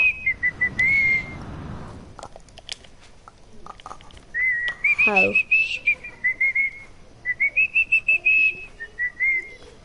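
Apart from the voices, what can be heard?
person whistling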